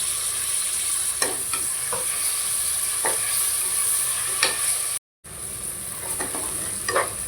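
Onions and two chopped medium tomatoes sautéing in a pan for paneer biryani, a loud continuous sizzle with occasional spoon scrapes and stirs, close up with no talking.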